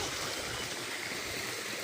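Water rushes steadily at Busay Falls in Sitio Kanturayan, Bugasong, Antique, a constant broadband roar of falling current, even and unbroken, with no voices.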